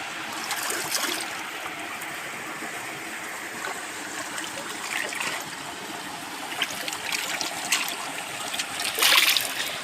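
Water rushes and trickles steadily over rocks, a constant close splashing flow with occasional louder splatters.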